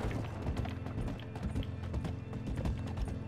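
Steady clip-clop of horse hooves at a walking pace in the video game Red Dead Redemption 2, fairly close, with a faint whinny in the background and no talking.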